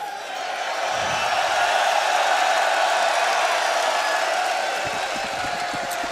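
An esports arena crowd at the CS:GO MLG Columbus 2016 semifinal, Liquid vs Luminosity, roars and cheers in a steady, loud wash of noise that swells and holds for several seconds.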